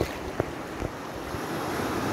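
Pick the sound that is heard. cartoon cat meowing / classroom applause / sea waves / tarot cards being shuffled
sea waves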